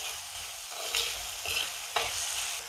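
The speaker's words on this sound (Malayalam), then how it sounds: "ഇതും നന്നായിട്ടൊന്ന് വഴരട്ടെ." Two medium tomatoes sauté with softened shallots and onion in a pan for a Malabar-style mackerel curry: a steady close sizzle with a few soft scrapes of stirring, no voices.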